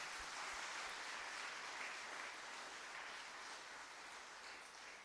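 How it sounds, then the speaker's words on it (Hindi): A church congregation applauds at the end of a sermon. The clapping is steady, dense and fairly faint, with no talk over it. "तालियां बजाएं और उसको धन्यवाद।"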